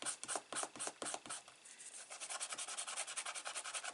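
A bone folder is rubbed firmly across a card in quick back-and-forth strokes, making close, soft scraping swishes in a steady rhythm with no voices.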